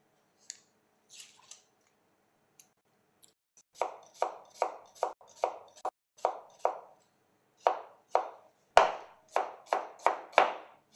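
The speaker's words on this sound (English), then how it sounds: "We're going to chop our onions finely." A knife chops onions finely on a cutting board, a few sparse cuts first and then a steady run of crisp, close chops at a regular rhythm.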